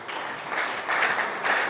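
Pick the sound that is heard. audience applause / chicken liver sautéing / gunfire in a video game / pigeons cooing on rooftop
audience applause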